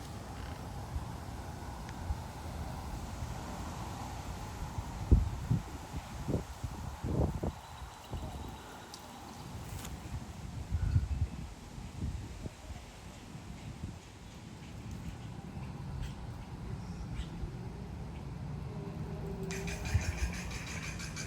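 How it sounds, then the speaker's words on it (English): Wind gusts of around 30 mph in Frisco, Texas, make a continuous low rumbling buffet, swelling in uneven bursts and easing off again over about twenty seconds, with faint rustling behind. "There goes the wind again."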